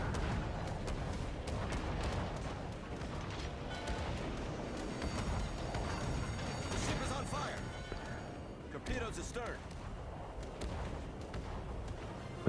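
Naval guns fire at a ship in the World of Warships Legends video game: dense, continuous rumbling booms and crashing impacts overlap throughout at a steady, heavy level.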